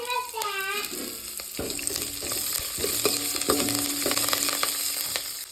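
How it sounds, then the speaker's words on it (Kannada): Curry leaves hitting hot oil in a pan on a low flame, giving a bright, steady sizzle with crackling pops and some stirring clatter, close and continuous throughout. "ಇದಕ್ಕೆ ಕರಿಬೇವಿನ ಸೊಪ್ಪನ್ನು ಹಾಕ್ತಾ ಇದ್ದೀನಿ"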